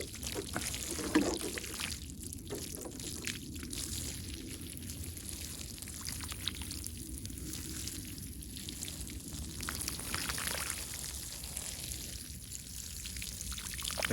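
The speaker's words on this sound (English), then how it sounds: "Some watering ASMR." Newly planted redbud trees are being watered, with a steady, faint pour and trickle running close by for the whole stretch, no voices, just soft splashing on the ground.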